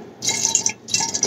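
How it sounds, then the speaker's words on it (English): Water poured from a plastic bottle into a glass, heard as two separate splashing, hissing pours close by with a short pause between them and no talking. "Now I got to pour this water in the plastic"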